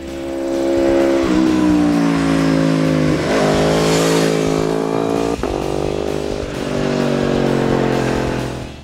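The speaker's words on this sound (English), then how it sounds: "If you like the howling sound of a 4-cylinder motorcycle, this is a 4, but it's a V4." An Aprilia RSV4 Factory APRC V4 motorcycle engine revs hard and loud, its harmonic howl climbing through several gear-like surges and dips, close and continuous with no talking.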